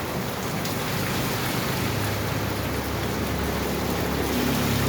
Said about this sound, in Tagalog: Grabe ang ulan, guys. Ang lakas.